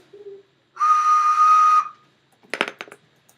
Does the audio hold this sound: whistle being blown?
yes